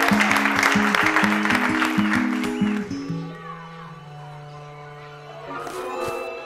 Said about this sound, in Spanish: Venga, un aplauso para todos.